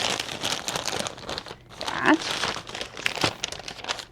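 Someone opens a mail package of craft supplies, and dense crinkling and rustling of plastic and paper packaging runs nearly continuously at close range, with a brief pause midway.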